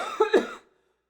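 A single woman's cough, two quick close bursts with a throat-clearing quality, heard alone before falling silent.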